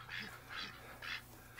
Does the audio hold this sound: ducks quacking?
yes